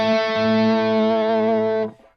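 An electric guitar through a Mesa Boogie amp with all effects off rings out a single sustained chord for nearly two seconds, loud and clean of talk, then is cut off abruptly.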